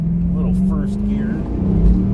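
A 2002 Chevrolet Camaro SS, a 35th Anniversary car, pulls away hard in first gear, its low engine drone steady and close with a rising rev note, while a voice talks over it.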